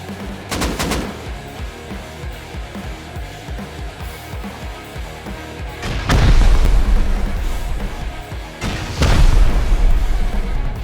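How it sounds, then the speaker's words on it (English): Rocket explosions hitting a base during a raid in the game Rust, with a crackle of gunfire early on and then two heavy booming blasts several seconds apart, each followed by a long rumbling tail. "Many rockets going back off here"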